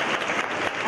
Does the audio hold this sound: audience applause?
yes